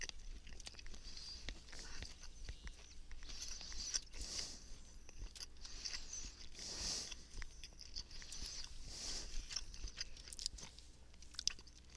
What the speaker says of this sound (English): Pardon my chewing sounds as I devour some ham.